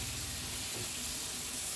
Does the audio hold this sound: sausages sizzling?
yes